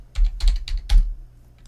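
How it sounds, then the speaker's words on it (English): Keys clatter on a computer keyboard as a command is typed in a terminal, a few quick close bursts of clicks followed by a quieter pause. "let's try typing Perlbrew"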